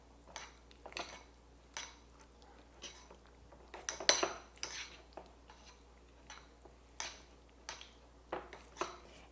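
A spoon stirs almond butter chocolate tart sauce in a bowl, making soft, faint clinks and scrapes that repeat at an irregular rhythm over a quiet background.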